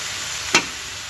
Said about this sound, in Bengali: ও তো ভাজা হচ্ছে